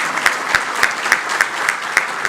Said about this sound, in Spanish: Un aplauso al presidente Fernández.